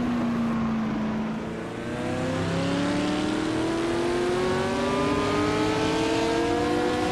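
Race cars, among them a 1970 Lola T70 Mark, roar off the line together at the start of a race at Barbagallo, a loud sustained engine drone with rising revs as the pack accelerates away.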